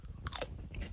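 Someone bites into crunchy home-baked chips cooked in a self-made oven, giving one quiet, close crunch of chewing.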